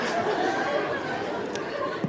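A lively crowd at a live stand-up comedy show chatters continuously, a dense wash of overlapping voices with no single speaker standing out.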